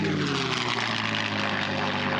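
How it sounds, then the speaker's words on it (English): A P-51 Mustang with a Packard Merlin engine roars past at an air show, a loud, sustained propeller drone with a high whistle from the wing gun ports riding over it. "that whistle you heard along with the music of that Merlin was added by at least one gun port on each wing"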